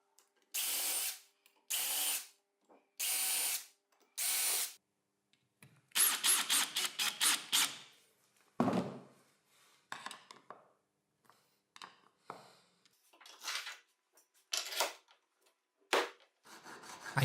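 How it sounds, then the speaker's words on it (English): Aluminum T-track profile being cut in a workshop: four even bursts of harsh rasping cutting, then a longer stretch of grinding strokes and scattered short cuts between quiet pauses. "I'll also cut the T-track profile so that I can screw them to the base of the sled"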